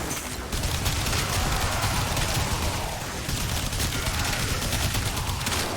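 Incarnon Boltor Prime firing full auto in the video game Warframe, a dense, continuous barrage of rapid gunfire that stays loud and steady throughout after a brief quieter start.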